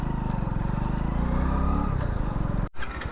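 Hero Splendor 100cc motorcycle engine, loud and close, its idle note sagging as the bike slows to a stop, then a brief dropout before the steady thrum returns.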